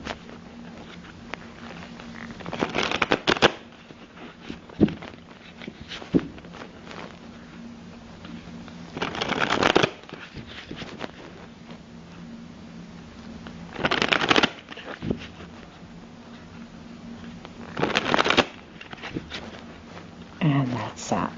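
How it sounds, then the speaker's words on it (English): Several bursts of card shuffling spaced a few seconds apart, each a quick riffling rustle, with soft handling noises between them. "I'm going to shuffle."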